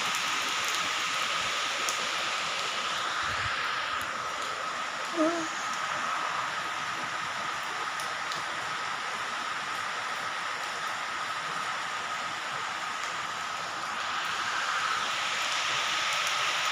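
Continuous rain hisses steadily throughout, a broad wash of sound with faint scattered noises underneath.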